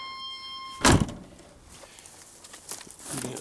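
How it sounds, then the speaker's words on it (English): Door of a 6.5 turbo diesel truck closing once with a solid, heavy thunk partway through, with faint steady hum and light shuffling around it. "Door closes nice."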